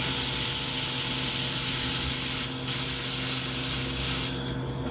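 A ZUMAQ laser welder welding aluminum onto stainless steel produces a loud, continuous hissing rush with a steady tonal hum, briefly wavering before easing off at the end.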